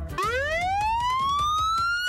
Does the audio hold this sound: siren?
yes